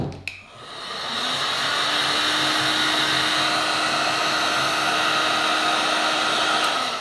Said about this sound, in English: let me blow dry first